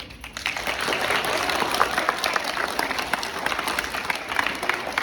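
Audience applause at a school Hindi Divas performance, a dense, steady clapping crowd held at an even level for the whole stretch, with no voices over it.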